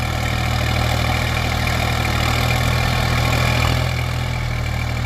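A New Holland TT3.50 tractor engine runs steadily close by, a loud, even diesel drone with a deep low throb and no breaks or revving.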